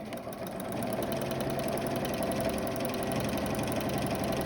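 A sewing machine stitches a fabric face mask, running in one continuous fast, even whir from start to finish, close and fairly loud with no pauses.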